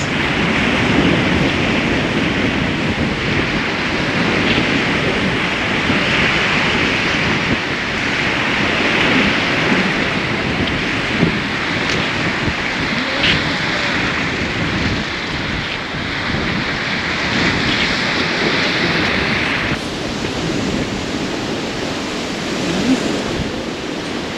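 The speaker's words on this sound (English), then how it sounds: "Big waves today, boys." Big winter sea waves crash and roar along the shore at Marmaris, a continuous loud wash of surf mixed with wind buffeting the microphone, no voices.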